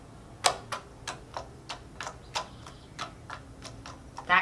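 Homemade slime being squeezed and stretched by hand, producing a steady series of small crisp clicks and pops at a quick, fairly even pace, close up with no talking.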